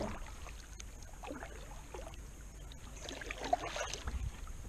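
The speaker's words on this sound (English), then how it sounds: "So we have to paddle back out the way we came." A kayak is paddled on Prettyboy Reservoir, faint soft splashes and water swishes in an irregular rhythm under light wind noise, with no voices.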